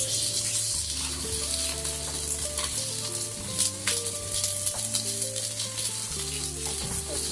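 Protein-packed scrambled eggs sizzle and crackle in a hot pan, a steady close frying hiss and spatter with gentle stirring scrapes beneath background music.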